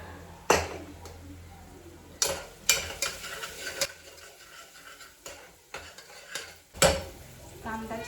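Onions frying in a pan for a capsicum chicken curry, with a low sizzle under repeated sharp stirring and scraping knocks of a utensil against the pan. Nobody speaks.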